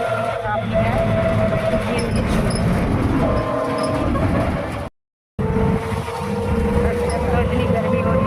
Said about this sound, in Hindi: रोड पे ट्रैफिक है।